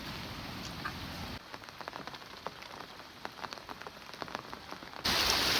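Heavy rain pours down during the rainy season, a dense, loud hiss of drops striking surfaces. Partway through it drops to a quieter patter of scattered individual drops, then the full downpour returns abruptly.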